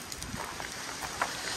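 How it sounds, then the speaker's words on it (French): Strong outdoor wind buffets the microphone at a house in Mexico, making a constant rumbling roar with soft gusts and faint background clatter, and no speech. "il y a beaucoup de vent, ce qui est exceptionnel"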